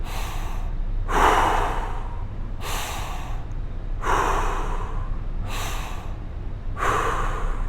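Six strong, close breaths come in an even rhythm about every second and a half during a deep belly breathing exercise, each a forceful rush of air through the body and nose.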